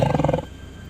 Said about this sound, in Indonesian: suara auman harimau.